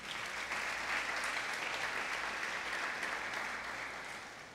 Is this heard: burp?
no